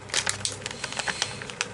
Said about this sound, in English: I'm going to get my marker, right, and I'm going to put some colour on the bag